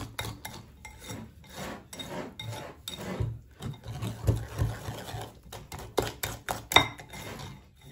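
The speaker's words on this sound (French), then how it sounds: "Vous retirez le plus de grumeaux possible. Vous la mélangez bien." Batter whisked in a bowl to work out the lumps, an uneven run of scraping, rubbing strokes against the bowl with a few sharper clinks near the end, close and moderately loud, no voices.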